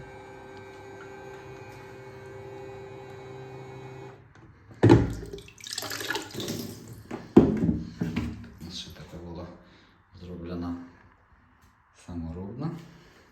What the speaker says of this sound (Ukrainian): І душик нажимається і качає воду.